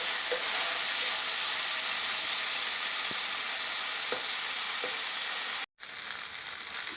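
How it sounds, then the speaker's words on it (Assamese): Okra frying in a pan over a raised, high flame, giving a steady broadband sizzle throughout with a few faint clicks, then a brief sudden dropout before the sizzle resumes. "মই জুইৰ ফ্লেমটো অকণমান হাই কৰি দিছোঁ এতিয়া অকণমান খৰকৈ ভাজি ল'ম"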